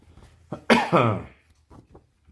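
Lingering cough from a man recovering from illness, heard as a short burst of two or three harsh, close coughs followed by faint breathy sounds, with no talking.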